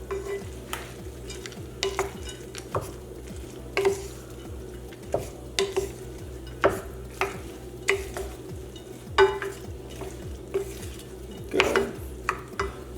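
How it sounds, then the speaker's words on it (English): Salsa verde ingredients with almonds being stirred together in a bowl, a close run of rhythmic clicks and scrapes of a utensil against the dish, fairly quiet and with no talk. "Mix that together."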